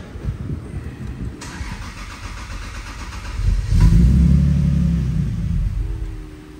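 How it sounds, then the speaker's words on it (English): A Lexus IS300 running a standalone ECU plug-in kit cranks for a few seconds, then catches and settles into a loud, rough, rumbling idle, heard up close with no talking. "let's see if the car starts."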